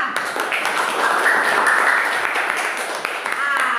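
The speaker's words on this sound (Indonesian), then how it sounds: "Tepuk tangan buat Niswa." Students in a classroom economics lesson clap for a classmate, a brisk burst of applause that carries steadily for a few seconds with voices mixed in.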